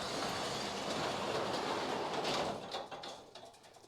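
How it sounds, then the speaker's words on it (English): A large door, likely a sliding barn or garage door, rumbles and rattles open continuously, then the sound fades out, at a barn in Iowa holding 1968 Shelby GT500KR Mustangs and other Ford cars. "Dwayne, would you open the door, please"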